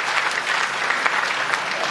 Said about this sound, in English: we really would like to appreciate them with a round of applause.